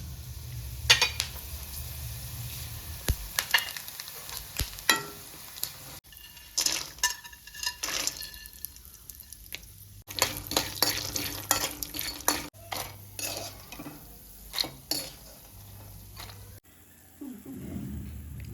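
Spices sizzle and fry in oil in a pan while a utensil stirs and scrapes repeatedly, with a few clinks of metal.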